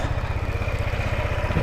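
A motorcycle engine idles nearby with a rapid, regular low putter and light mechanical clatter, steady for the short stretch, with no voices.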